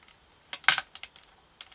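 Blade chopping a polymer clay swirl cane into short sections on a hard work surface, a few sharp clicking taps with one louder knock, close and otherwise quiet.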